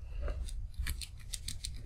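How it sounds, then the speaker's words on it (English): A toy action figure's arm clicks as its lever is pulled, a quick run of bright ratcheting clicks close up over a low steady rumble. "it's got a clickety motion, like it clicks, like it definitely offers up much more resistance"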